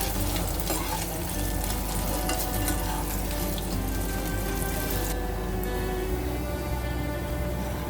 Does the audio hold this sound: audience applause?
no